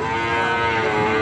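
A cow moos once in a long, steady, loud low call heard up close with no talk, from cattle on a farm during the rescue of a pregnant cow that had collapsed.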